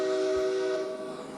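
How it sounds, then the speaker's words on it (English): A steam train whistle in a video game sounds a steady, sustained tone that fades and thins out toward the end, with no one speaking over it. "if the whistles in the game could be like this, where they're not just buttons"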